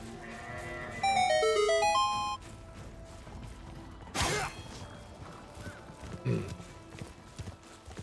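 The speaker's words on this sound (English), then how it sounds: "Also, I heard weird space goats." Weird space goats bleating in the game Warframe, a couple of short bleating calls after a burst of music, fairly faint under game ambience.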